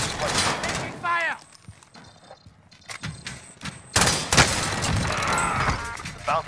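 Automatic gunfire and explosive thuds in Call of Duty Warzone, dense bursts of shots near and loud, dropping to a brief lull and then resuming heavily, with voices talking over parts of it.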